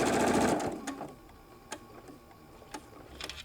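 A sewing machine stitches across a fabric shoulder bag, opening with a short, loud whirring run that gives way to quiet, sparse clicks and taps.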